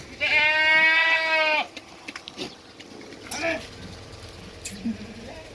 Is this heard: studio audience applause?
no